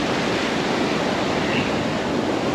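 Ocean waves breaking on Pensacola Beach, Florida, a steady, full roar of surf and rushing water with no pauses, heard up close and fairly loud throughout.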